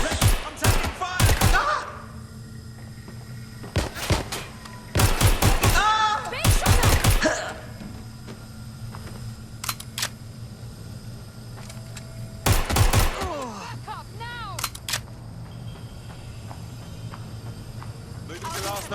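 Gunfire in the video game Watch Dogs Legion comes in sharp bursts of rapid shots, loud and close, separated by quieter stretches of background hum.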